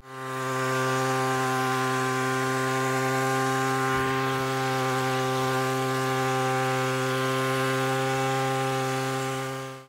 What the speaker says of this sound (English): Tea plantations facing acute shortage of labor are using this tea harvester successfully.